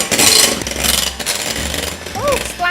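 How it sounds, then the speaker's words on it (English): An electric whisk beats egg whites and sugar into meringue, giving a loud, harsh motor buzz that rattles against the bowl while a person talks over it. "So whisk it for about 20 seconds and another tablespoon until it's nice and stiff and glossy"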